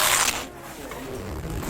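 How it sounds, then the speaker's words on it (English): Heavy zippers and Velcro on thick nylon life jackets being put on indoors, a loud rasping rip at the start followed by steadier scraping and rustling throughout. "the room fills with the sound of heavy zippers and Velcro"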